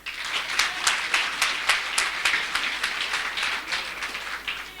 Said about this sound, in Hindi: आप सभी लोगों का मैं जोरदार ताली के साथ स्वागत करती हूँ